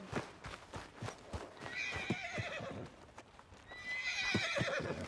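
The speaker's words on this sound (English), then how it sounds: "Need a hand with that horse?" A horse in Red Dead Redemption 2 whinnies in two drawn-out bursts, with clip-clopping hooves and short thuds between them in an outdoor game scene, fairly close and moderately loud, with no talking.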